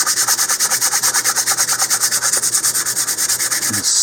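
Rhythmic back-and-forth scraping of 220 grit sandpaper smoothing putty on a model rocket body, steady quick strokes close up with no talking.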